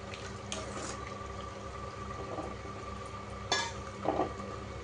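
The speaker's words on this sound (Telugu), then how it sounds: "ఏదైనా ఒకటి పొడవాటి స్పూన్, గంటలా కాకుండా జస్ట్ ఊరికే సాల్ట్ వాటర్లో కలవడానికి." A long spoon stirring salt water in a pot for homemade french fries, faint clinks and watery swishes over a steady low hiss, with a couple of brief louder scrapes near the end.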